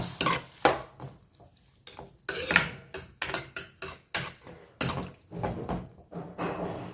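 A spoon stirs okra mandi in a metal pot, making a run of sharp clanks and scrapes in uneven bursts that sound close and fairly loud.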